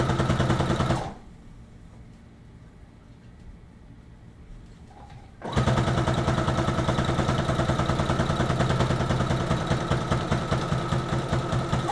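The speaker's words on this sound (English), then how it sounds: "But the machine sews." A sewing machine stitching lace onto a dress waistband, a loud rapid mechanical clatter that stops for a few seconds and then resumes at a steady pace.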